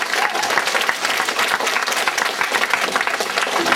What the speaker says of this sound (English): Let's give all of our teachers a big round of applause.